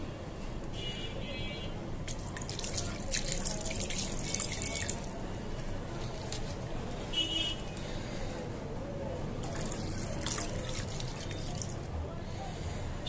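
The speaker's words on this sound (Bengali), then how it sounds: "এখন আমি দিয়ে দেব পানি।" Water poured into a pot of hand-marinated beef being cooked with pointed gourd: a steady splashing, trickling stream runs for several seconds, close and moderately loud, against a continuous low background rumble.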